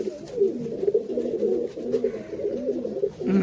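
Rajshahi pigeons coo nearby in soft, repeated low rolling calls that overlap steadily, with no voices heard.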